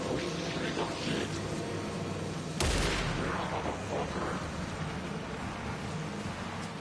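Gunfire in the video game Alan Wake 2, a sharp loud burst cutting through a dense noisy game soundscape, followed by a decaying rumble.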